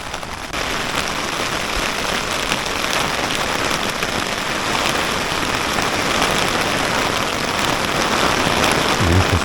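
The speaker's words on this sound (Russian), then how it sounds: "Сейчас ливень идет." Heavy downpour drums steadily on an 18-year-old tent during a mountain trek to Arel Peak, a dense, continuous close hiss of rain on fabric with no letup for the whole stretch.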